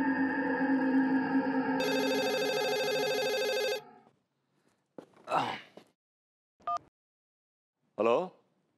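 A telephone rings loudly with a steady electronic tone for about four seconds, then stops; brief sighs and short vocal sounds follow in a quiet room during a Hindi TV comedy scene.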